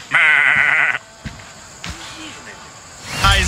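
In the Assassin's Creed Odyssey video game, a goat gives one loud, wavering bleat near a goat pen, followed by soft thumps and game ambience and a brief vocal sound at the end.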